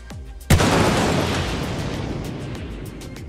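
A missile explodes in a space combat video game with one sudden, loud blast that fades into a long rumbling roar.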